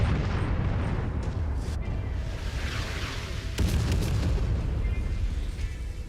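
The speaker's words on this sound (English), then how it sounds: "They hit the artillery comes in way too often. There shouldn't be this much artillery in the campaign missions." Artillery fire in a mech combat game: a steady rumble of distant explosions and booms, with a sharp close impact standing out midway, no voices.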